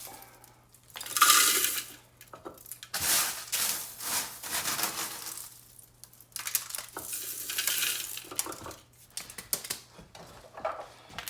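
Dried eggshells clatter and rattle as they are loaded into a Moulinex grinder, with a series of irregular crunchy, scraping bursts up close and a faint steady hum underneath.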